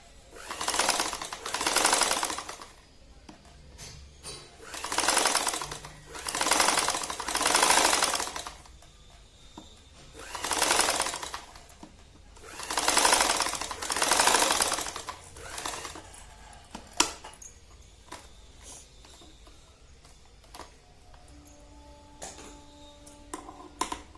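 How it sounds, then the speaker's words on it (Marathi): A sewing machine stitches a round fabric piece for a homemade tassel in rapid, whirring bursts of a second or two that start and stop repeatedly, followed by quieter handling and clicking of the fabric. "हा असा गोल शिवून घ्यायचा."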